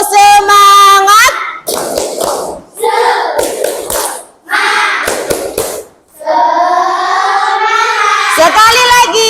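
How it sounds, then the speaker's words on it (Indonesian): Children in a classroom do a rhythmic spirit-clapping chant, with bursts of patterned claps and shouted, sung-along counting, loud and close, broken by short pauses. "kita tepuk semangat dulu ya"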